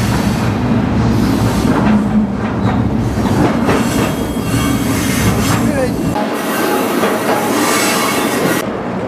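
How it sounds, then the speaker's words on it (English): A freight train rolls steadily on the Spokane approach, heard up close from aboard, with a continuous roar, clattering wheels and squealing metal, and a low rumble that briefly drops out near the end. "the train is approaching the junction in Spokane"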